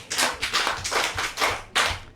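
A small group of people applauds at a Yoruba podcast recording, giving about six or seven loud, separate rounds of claps in a quick, uneven rhythm, close by, with no talking over them.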